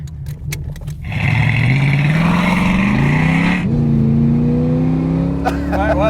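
A 1978 Chevrolet Monza Spyder, supercharged with a leaf blower, drives past close up with a loud engine note that rises through the gears as it accelerates, with a gear change midway and a steady roar afterwards.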